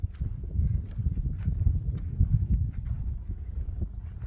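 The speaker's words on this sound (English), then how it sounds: "all I hear are crickets and grasshoppers" Crickets and grasshoppers chirp steadily in hot summer heat around a drought-stricken soybean field, a continuous high pulsing trill over low rumbling background noise.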